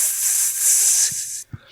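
A voice imitates an aerosol spray, giving one loud, close, sustained hiss that lasts over a second and cuts off sharply, followed by a couple of brief soft breaths.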